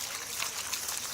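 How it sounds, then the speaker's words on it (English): Water trickles and splashes steadily over freshly harvested black walnuts being washed, a soft continuous pouring and dribbling sound close by with no talking. "Okay, so we're going to wash these walnuts."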